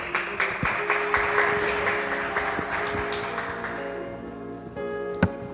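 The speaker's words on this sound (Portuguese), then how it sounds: "Você pode aplaudir o Senhor, amém?" A church congregation claps for the Lord during a service, scattered claps at first building into a steady patter, moderately close, over faint background sound.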